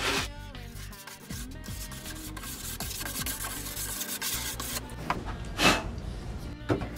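Rough abrasive rubbing back and forth over a waxed snowboard base with light pressure to knock down high spots, a steady close scrubbing texture with brief louder strokes near the end.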